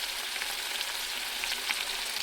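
Flat beans frying in a pan with salt being added, a steady, close hiss of sizzling oil running evenly throughout with small crackles.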